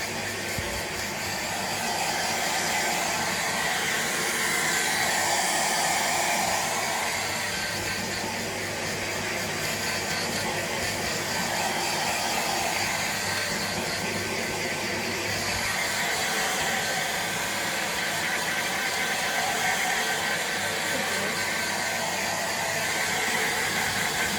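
A dryer blowing steadily to dry a dog after its bath, a loud continuous broadband whoosh with slight swells in intensity, no talking.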